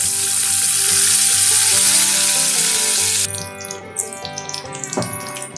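Mustard seeds, cumin, asafoetida and curry leaves hit hot oil for an egg pulusu, a loud dense sizzle that suddenly drops to softer crackling and popping with a few clinks near the end.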